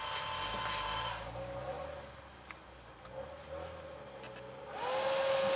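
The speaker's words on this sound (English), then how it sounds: "There, you hear the fan turns on" The cooling fan of an Arcimoto FUV electric vehicle starts on a cold-weather start with a drive fault, a faint rising whine and airy hiss inside the cabin that swells to a steadier tone near the end.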